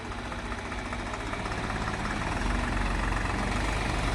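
A tempo truck hauling onions is pulled out of mud, its engine a loud, steady, low rumble that swells slightly toward the end, heard close with no voices.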